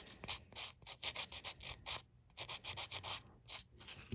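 A nail repair is sanded down to take off an air bubble, a faint, close scratching in quick rhythmic strokes with short pauses between bursts.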